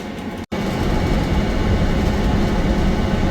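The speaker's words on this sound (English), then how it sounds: "The train is departing." An airport terminal shuttle train departing toward Terminal B, a loud, steady rumble and hiss from inside the car that starts after a brief cutout and holds evenly throughout, with no voices.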